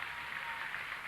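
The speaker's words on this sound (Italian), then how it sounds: "Un applauso per Salvatore Peruso" Faint, distant applause from a studio audience on an Italian TV dance show, a brief wash of clapping heard alone.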